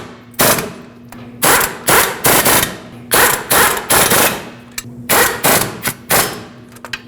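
Bolts being snugged on a wheel bearing of a 2005-2021 Nissan Frontier 2WD with a power wrench, bursts of loud, rapid rattling impacts in repeated short runs separated by brief pauses, close up, with no talking.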